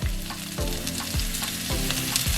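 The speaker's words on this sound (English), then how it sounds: "Now we're going to saute it with garlic powder" Vegetables sauté in oil with garlic powder, a dense sizzling hiss from a nearby pan with rhythmic stirring knocks roughly every half second, no voices over it.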